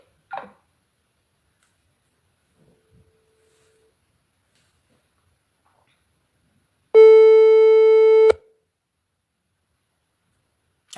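A telephone busy signal sounds once as a steady electronic tone lasting about a second and a half, loud and close, with near silence around it and no speech.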